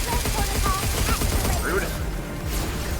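Rapid bursts of video game gunfire aimed at the player, loud and dense, with a few electronic chirps and tones mixed in before the shooting thins out toward the end.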